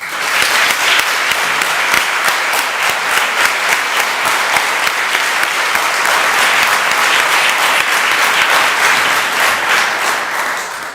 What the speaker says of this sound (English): I would like to ask his students in the room, online, and all of us to give him another round of applause